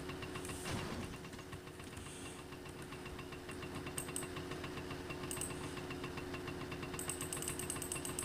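Motorcycle engine in the video game My Summer Car, a steady mechanical idle with rhythmic knocking pulses and a constant hum, running close and continuous throughout with brief clattering bursts.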